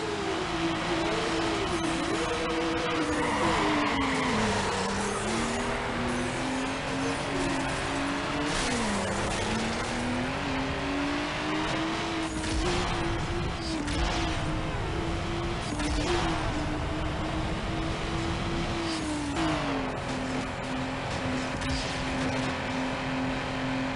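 Race car in Need for Speed Underground driven hard through city streets, engine whining and shifting steadily up and down in pitch, with occasional tire squeal and skids, loud and continuous throughout.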